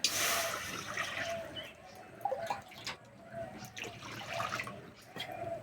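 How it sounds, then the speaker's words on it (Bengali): Water is poured into a kadai while a papaya breakfast dish is being made: a brief, bright splashing rush at the start gives way to softer trickling and drips, with a voice talking faintly underneath. "কড়াই দেব জল"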